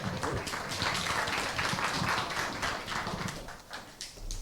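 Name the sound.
audience applause welcoming lecturer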